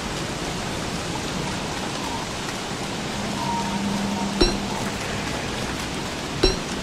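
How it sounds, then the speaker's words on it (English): Steady rain pours in the video game Don't Starve in a dense hiss, with a couple of brief sharp knocks and a faint low hum partway through. "I wish it stopped raining."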